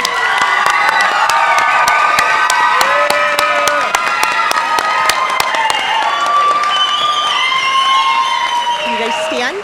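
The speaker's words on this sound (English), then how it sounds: "Let's give them all another round of applause." At a school district online academy graduation ceremony, a crowd cheers and applauds the graduates: dense clapping with whoops and shouts, loud and sustained, with some talk mixed in.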